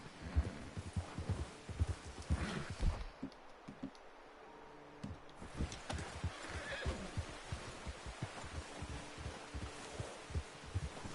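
A horse whinnies loudly and its hooves clip-clop in an uneven rhythm, with saddle and gear rustling, in the open-world western game Red Dead Redemption 2. No one speaks.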